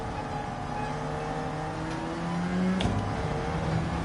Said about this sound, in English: That car sounds sick, dude.